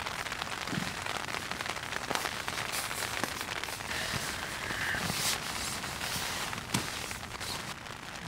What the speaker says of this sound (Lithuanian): šiandien lietutis biški daužo